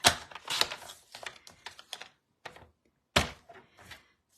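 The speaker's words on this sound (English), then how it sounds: "So now we need to bring back paper trimmer." A paper trimmer slices card stock in a series of sharp clicks, slides and thunks, irregular and close, with brief pauses between strokes.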